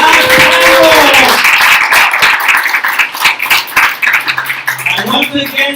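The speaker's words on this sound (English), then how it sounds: "Give a round of applause for our last panel." A crowd at a Latin America solidarity forum on neoliberalism applauds the final panel, with loud, dense clapping that thins into scattered individual claps as voices talk and call out over it.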